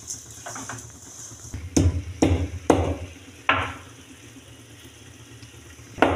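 Cardamom with sugar is pounded for grinding in a few sharp, loud thuds at uneven gaps, with dull handling noise between strikes and no talk.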